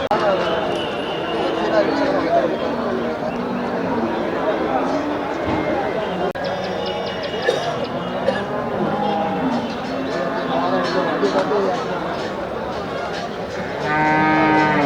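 Cattle lowing repeatedly at a busy cattle market in Melapalayam, moos rising over a steady crowd murmur, with people talking throughout and occasional clatter nearby.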